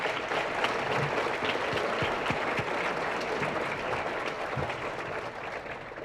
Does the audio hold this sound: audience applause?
yes